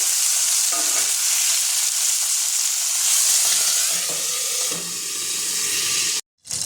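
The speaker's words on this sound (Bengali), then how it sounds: "এবার আমি চিংড়ি মাছটা ভেজে নেব।" Prawns fry lightly in hot oil for an aloo chingri dish, giving a steady broadband sizzle that runs the whole time with a few soft stirring scrapes, before it cuts out briefly near the end.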